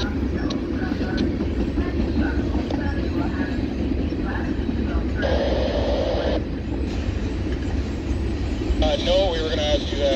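CN freight train M301 led by two ex-CitiRail ES44AC locomotives, 2767 and 3298, rumbles past with a steady heavy roar and rolling-wagon clatter, horn-like tonal bursts near the end, and voices talking over it.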